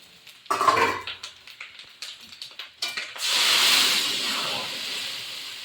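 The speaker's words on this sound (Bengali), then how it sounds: "এবার আমি জল দিয়ে দেবো।" A few clattering kitchen knocks, then water hits a hot pan and bursts into a loud, steady sizzling hiss that slowly eases off.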